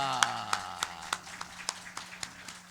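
A church congregation claps during a Sunday service to welcome a visiting pastor, heard as steady, evenly spaced claps, about three per second, over a sustained voice-like tone.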